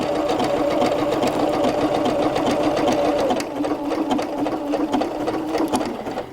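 A PFAFF ambition 610 sewing machine runs steadily while stitching fabric, a close, continuous rapid whirring with fast needle clatter that eases slightly in pitch halfway through.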